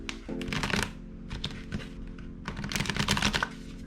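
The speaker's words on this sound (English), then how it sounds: "I'm going to give these cards a bit of a shuffle" Tarot cards being shuffled by hand, a run of quick papery riffles and soft clicks in two bursts with a brief pause between, close and fairly quiet.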